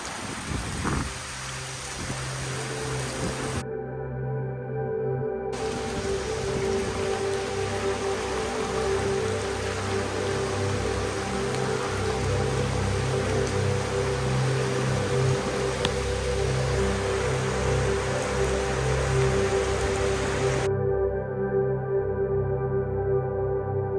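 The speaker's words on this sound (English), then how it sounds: "It's like constantly raining in here." Water drips and patters steadily like heavy rain inside the Königssee glacier ice cave in the German Alps, a dense, continuous splashing wash heard up close with no talking.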